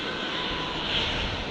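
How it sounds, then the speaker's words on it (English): A GippsAero Airvan light aircraft taxiing at Brisbane Airport gives off a steady, fairly loud engine drone, heard alone without speech. "The air van is on the move, I think."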